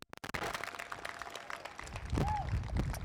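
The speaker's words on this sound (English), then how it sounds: "A big round of applause." Eighth-grade graduation audience claps for the class of 2021, a crowd patter of applause with scattered louder claps and some background crowd noise swelling toward the end.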